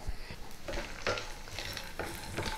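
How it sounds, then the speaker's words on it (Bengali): Pea lentil bori dumplings fry in oil in a wok, with a steady sizzle broken by several louder scraping stirs from a utensil, close and continuous without talk. "এই কড়াইতেই সামান্য আরেকটু তেল দিয়ে আমি বড়িগুলো ভেজে নেব।"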